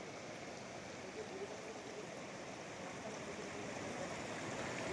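The Jambu River flows through forest in Simlipal National Park with a steady, broadband rush of running water, constant and fairly close, with no voices over it.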